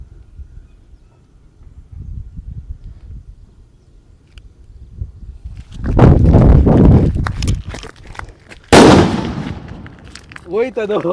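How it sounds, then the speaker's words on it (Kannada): An atom bomb firecracker goes off near a vessel, with a loud rumbling burst followed by a single sharp, powerful bang close by and a voice just afterward. "ನಾನು ಇವಾಗ ಹಚ್ತಾ ಇದ್ದೀನಿ ಆಟಮ್ ಬಾಂಬು ನೋಡಿ check it off dangerous bomb"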